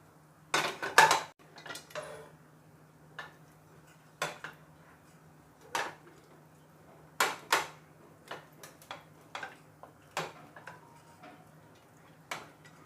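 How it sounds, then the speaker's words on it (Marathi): A pav bhaji masher pressing and tapping against boiled chickpeas in a pot, giving sparse, irregular clicks and knocks with quiet gaps between them. "हे जरा आपण ग्रेव्ही घट्ट करण्याकरता थोडेसे भाजीपावच्या स्मॅशरने थोडेसे मऊ करून घ्यायचे आहेत"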